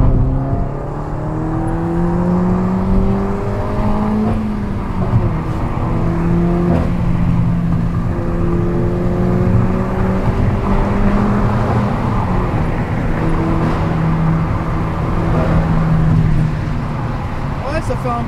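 A car engine droning while driving, heard loud from inside the cabin, with rising pitch sweeps as it pulls through gears and a steady rumble underneath, continuous throughout.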